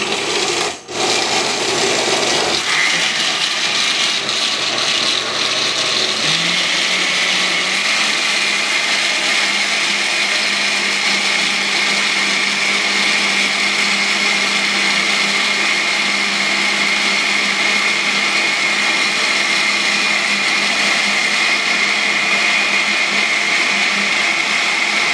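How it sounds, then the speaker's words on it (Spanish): A kitchen blender runs steadily for a long stretch, blending a pollen-based energy syrup; a loud continuous whirring motor drone with a brief start-up, settling into an even tone once the blend smooths out, with no talking. "Lo tienen que dejar licuar muy bien."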